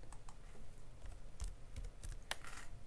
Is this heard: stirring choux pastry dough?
no